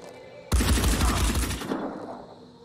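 Gunfire in the video game Phoenix Point: a loud, close burst of rapid automatic shots that starts abruptly, rattles for just over a second, then fades into a short echoing tail.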